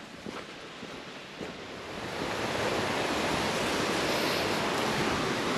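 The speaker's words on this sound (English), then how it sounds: "And I hear water up ahead." Running water near sulfur-smelling natural springs in a quiet, deserted place, a steady broadband rush that swells louder after the first couple of seconds and then holds constant, with no talk.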